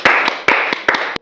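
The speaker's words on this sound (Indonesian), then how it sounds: "Kasih tepuk tangan dong." A short burst of hands clapping in a podcast studio, a few people applauding together at close range for just over a second, dense steady patter punctuated by several sharper, louder claps before stopping abruptly.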